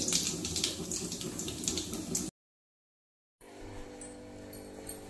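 Mustard seeds and cumin sizzle in hot oil with a close, hissing crackle and scattered pops. The sound cuts out for about a second, then comes back fainter and steadier.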